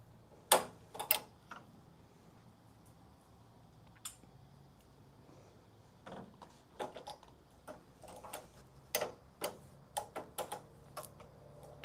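An embroidery machine traces the outline of its hoop, stitching toilet paper, giving sparse, dry mechanical ticks and clicks. They come in scattered clusters, growing more frequent toward the end, against a quiet room with no speech.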